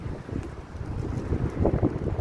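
Gusty wind buffets a microphone on a sunny, windy morning along Las Vegas Boulevard across from South Point, a low rumbling roar that rises and falls in short gusts throughout, with no speech.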